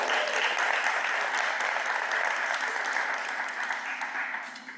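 An audience at a school district board meeting bursts into sustained applause, a dense, steady wash of clapping that holds strong throughout and only begins to thin slightly near the end.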